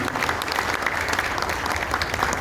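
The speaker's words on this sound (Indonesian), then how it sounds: "Tepuk tangan buat bersama." An audience at a union members' meeting at PT Sumi Rubber Indonesia applauds together, a steady, moderately distant wash of clapping with no talk on top.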